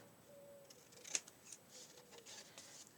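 A single quiet snip of scissors trimming craft material held with elastic bands, followed by faint handling and rustling in a quiet room.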